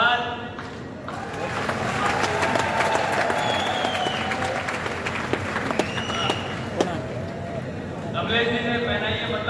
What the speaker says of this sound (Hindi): जरा जोरदार तालियां बजाएं।